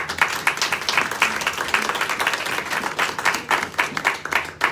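A round of applause from a seminar audience, steady and moderately loud clapping throughout with no talk over it.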